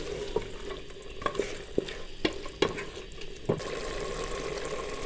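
Potatoes stir-fried in minced meat for aloo qeema sizzle steadily in a pan, with a spoon scraping and knocking against the pan in irregular strokes close by.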